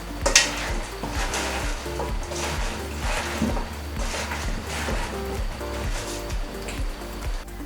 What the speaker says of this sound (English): Toss it together before putting it in the oven.